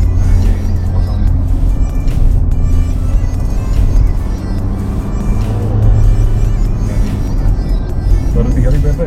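Mercedes-Benz C43 AMG engine after a stage 2 ECU remap, holding a steady, loud, deep rumble at raised revs throughout while people talk over it.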